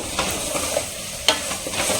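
A spoon stirs chilli powder into a coconut kara kuzhambu in a pan, with close, repeated scraping strokes and a soft sizzle underneath.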